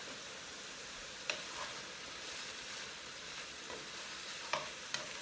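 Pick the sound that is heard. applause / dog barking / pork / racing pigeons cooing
pork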